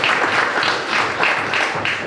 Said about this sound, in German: Dürfen wir auch klatschen.